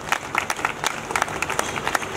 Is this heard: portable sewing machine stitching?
no